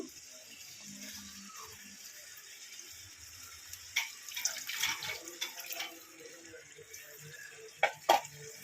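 Water is poured into a cooking pan for an egg dish, a soft trickling and splashing that comes in short, faint bursts over low background noise.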